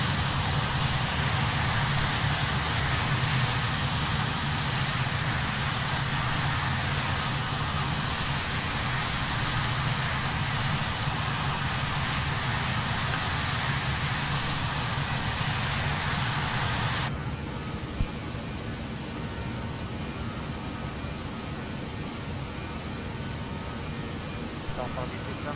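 Jet engines of a Just Flight BAe 146 in a flight simulator make a steady, loud broadband roar with a whining high tone; the whine drops away after about 17 seconds while a lower rumble continues.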